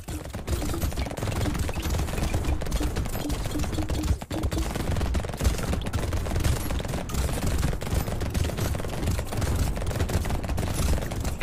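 Rapid, dense gunfire from a Ranger character in the Brotato game rattles on continuously and loudly, a nearly unbroken stream of shots with one brief dip partway through.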